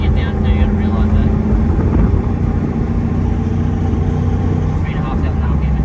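An LS1 V8 engine in a car holds a steady, heavy drone at around 3,500 RPM, loud and close, with a deep rumble sustained throughout.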